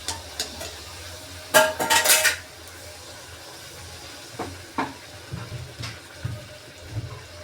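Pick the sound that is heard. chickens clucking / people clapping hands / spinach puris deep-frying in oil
spinach puris deep-frying in oil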